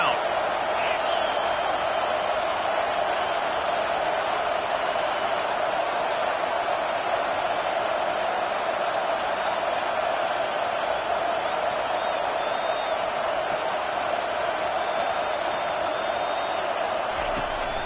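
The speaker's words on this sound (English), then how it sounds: "Decibels rising as the crowd gets behind this defense on 3rd down." Stadium crowd noise from the college football video game NCAA 25, a steady dense roar swelling behind the defense on third down, continuous throughout with a play-by-play commentator talking over it.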